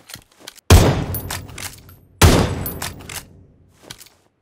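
Two loud, sharp gunshots in the video game mode Metro Royale ring out about a second and a half apart, each followed by a short echoing tail and faint clicks.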